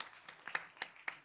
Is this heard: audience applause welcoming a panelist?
yes